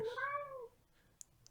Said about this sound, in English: Was that a cat? That was a cat.